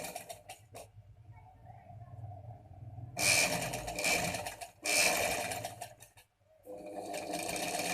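A sewing machine stitches along the edge of a cut-work sleeve in several bursts of a second or two each, separated by quieter pauses with faint handling sounds.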